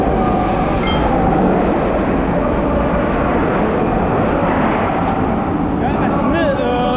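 Trains at a metro station in Rio de Janeiro make a loud, steady rumble that fills the whole stretch, with higher screeching tones rising near the end.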